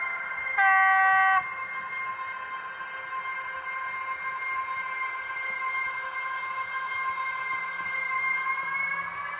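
A model Roco E193 Vectron locomotive's sound unit gives a steady, sustained high metallic brake squeal with layered tones, preceded by a brief loud horn-like blast near the start; continuous and fairly loud throughout.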